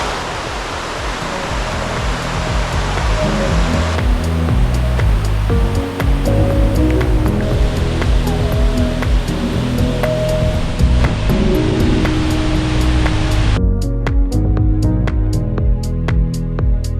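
The tallest waterfall in Bohol, full after heavy water flow, pours in a loud, continuous broadband rush that holds steady for the whole stretch with no voices.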